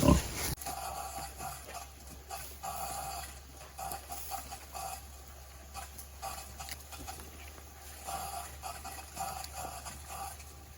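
Pigs on a farm grunting steadily while being fed lettuce, a busy low rooting and snuffling texture running throughout, close by with no talk.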